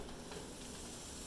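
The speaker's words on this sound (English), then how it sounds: "as you can hear from that little sizzle" Onions and garlic sizzle in a hot pan while fried chicken is cooked, giving a steady, quiet, continuous hiss with no voices.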